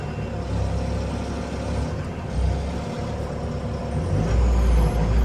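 A 2022 Bobcat T740 skid steer runs its standard-flow auxiliary hydraulics, giving a loud, steady diesel drone with a hydraulic whine and rising load near the end, close by and with no talk.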